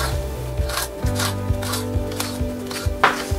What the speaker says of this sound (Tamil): கீரைய நீல வாக்குல இது மாதிரி கட் பண்ணிட்டு